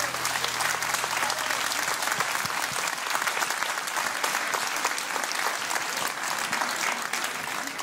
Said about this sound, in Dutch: Heerlijk weer dat applaus, hè?